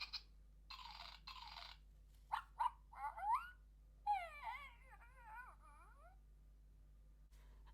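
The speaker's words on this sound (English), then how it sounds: "And we'll see what the dog's like when it goes to sleep." A Furreal Friends Furry Frenzies toy dog going to sleep, giving short electronic yips and whimpers followed by a run of warbling, whiny squeals, fairly close and alone against a faint steady hum.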